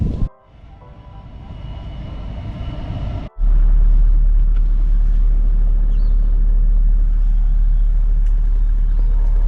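Steady road rumble from a vehicle driving away from Giru, after a short engine start, a brief cutout and a surge; a loud, continuous low drone with no talking.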